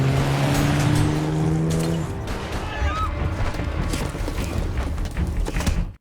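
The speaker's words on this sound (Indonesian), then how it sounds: "Fairuz segera mengambil mobil dan langsung tancap gas agar bisa lolos dari kejaran para polisi." A car speeds off fleeing police in a film chase, engine roaring with tire squeal and a passing whoosh under a dense action soundtrack, loud and continuous with a tonal hum fading early.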